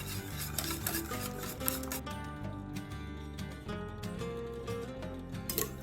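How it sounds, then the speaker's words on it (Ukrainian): Eggs and sugar for a honey cake are whisked by hand in a bowl, a fast continuous rasping swish of wire against the bowl, close and steady over a faint hum. "Збиваємо яйця з цукром, можна міксером, але так як зараз немає світла, тому я буду збивати вінчиком"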